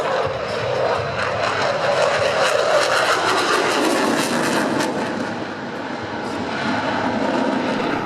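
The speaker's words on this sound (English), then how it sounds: "The display was flown by Captain Benoit Planche" A Dassault Rafale fighter jet in a flying display at the Singapore Airshow gives a loud, sustained roaring jet rumble with a broad rushing texture that swells and eases slightly as it passes.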